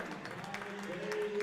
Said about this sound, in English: Well-deserved applause